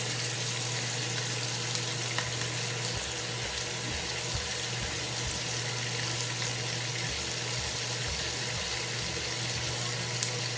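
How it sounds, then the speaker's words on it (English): Already-cooked bacon crisping in a frying pan, sizzling and crackling in a steady, dense hiss that holds throughout with a faint low hum underneath and no voices. "The bacon's already cooked. I'm just going to crisp it a little bit."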